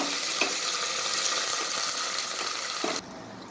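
Mustard seeds sizzle and crackle in hot oil, tempering a home-cooked sambar with brinjal and mango. A steady, bright frying hiss runs close and continuous, then drops off sharply near the end.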